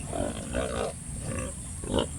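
Farm pigs eating napier grass, giving a few short nasal grunts and snorts close by, spaced irregularly over a low background of chewing and rustling.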